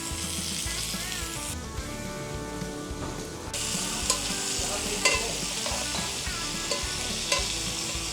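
King oyster and maitake mushrooms with olive oil, salt and pepper being stirred in a hot pan, a steady close sizzle with clinks and scrapes of the utensil and a tonal hum in the background.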